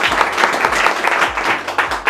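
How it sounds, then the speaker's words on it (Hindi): An audience at an AC and PCB repair training institute claps for their mechanical instructor, Prashant; dense, steady applause from a crowd sustained for the full two seconds, loud and close. "तो एक बार प्रशांत सर के लिए ताली हो जाए"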